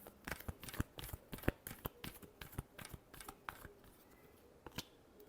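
Tarot cards are shuffled by hand close up, a quick series of crisp riffling snaps and taps in an uneven rhythm, fairly quiet and without talking.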